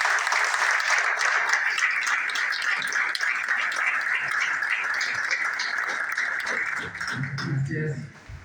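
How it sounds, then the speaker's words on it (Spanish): Sustained audience applause fills a university lecture hall for a constitutional convention president, dense steady clapping for about eight seconds before it tapers off at the end. "Demos un fuerte aplauso al doctor Eduardo Menem."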